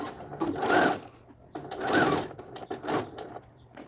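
A domestic sewing machine runs in three short bursts of stitching, back and forth as in a backstitch on a lined child's dress, close and fairly quiet with small clicks between the runs.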